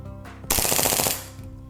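A Beretta airsoft pistol with a plastic shroud fires a rapid burst of shots, a loud, close, fast rattle lasting about half a second between quieter moments.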